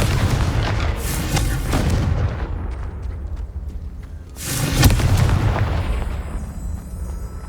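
Two heavy booming blasts from the Confringo blasting spell in the Hogwarts Legacy video game, each a loud deep explosion with a rumbling tail, the second arriving a few seconds after the first fades.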